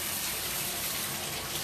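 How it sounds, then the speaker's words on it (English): Cool tap water runs steadily while rinsing paint from a groomed dog's coat during a bath, a continuous broadband hiss with no one talking. "So we're going to use cool water."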